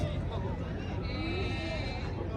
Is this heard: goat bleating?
yes